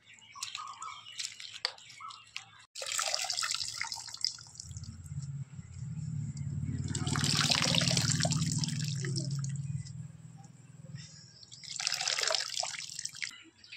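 Cabbage being rinsed in water in a home kitchen, with running water, drips and splashing in several bursts, close and moderately loud, and no talking.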